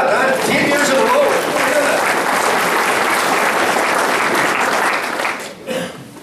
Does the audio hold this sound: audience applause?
yes